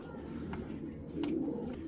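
Racer pigeons coo softly in a low, rolling murmur, faint and steady, with no voices over it.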